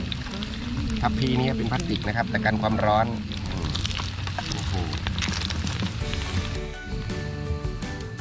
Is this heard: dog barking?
no